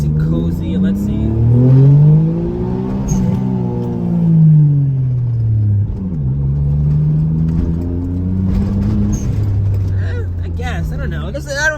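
A modified Suzuki Cappuccino kei car with an N1 ECU and turbo timer revs hard through an acceleration pull, its engine note rising and falling in pitch across two sweeps, loud and close, with a voice partly over it.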